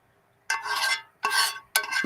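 Food scraped off camping cookware in three scratchy, rasping strokes, each lasting about half a second, close and fairly loud, with brief pauses between them.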